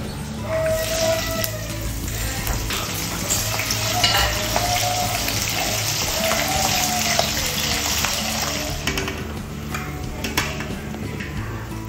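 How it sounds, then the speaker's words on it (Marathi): Green chillies fry in hot oil with a continuous loud sizzle and crackle, broken by occasional utensil scrapes and clinks from stirring in the pan. "आता मी मिरच्या फ्राय करून घेते"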